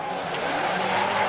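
A rallycross car engine roars at a distance as tires hiss and scrub across the surface in a brief skid.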